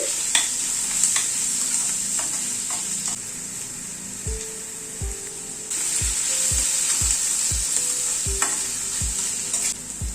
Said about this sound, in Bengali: রসুনটাও পেঁয়াজের সাথে ভেজে নিচ্ছি।